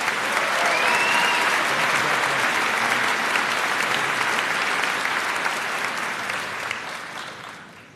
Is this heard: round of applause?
yes